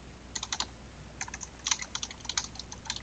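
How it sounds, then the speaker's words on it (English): Quick bursts of keystrokes on a computer keyboard as a search is typed into a browser on a Mac, soft close clicks in short irregular runs and no speech. "You are going to go into your internet browser and type in Audacity"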